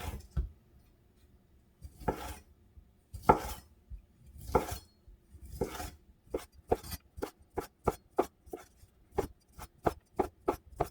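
A knife slices a sausage at an angle on a cutting board. Sparse, spaced chops come first, then quicker, evenly rhythmic knocks follow, close and crisp, with no talk.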